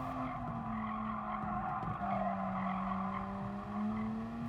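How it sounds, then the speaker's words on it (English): In GT Sport, a race car brakes into a hairpin: a steady engine tone drops in pitch while the tyres squeal and skid under braking, all at a moderate level with no talking. "Braking at the 175 metre board and moving into the hairpin."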